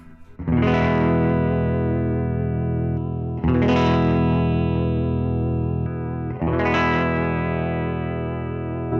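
Origin Effects MAGMA57 vibe pedal set to its doubled-speed X2 mode, processing three sustained guitar chords struck about three seconds apart, each ringing loudly with a fast swirling, slightly distorted vibrato and no talking.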